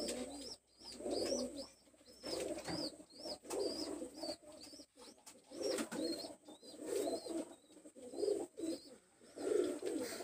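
Pigeons sold as single birds coo repeatedly in a loose rhythm, close and clear, with no talking over them.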